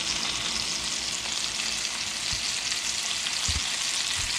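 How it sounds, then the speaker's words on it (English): Brook trout frying in a pan until crispy, a steady dense sizzle and crackle of hot oil throughout, close and even, with a few soft low knocks, no talking. "Shouldn't take long to cook these trout."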